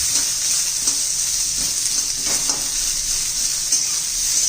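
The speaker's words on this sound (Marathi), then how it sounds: "आता कांदा भाजून घेऊया आपण" Sliced onions, two of them cut lengthwise, fry steadily in a pan for a Maharashtrian mixed vegetable dish, giving a continuous bright sizzle with faint stirring scrapes throughout and no voices.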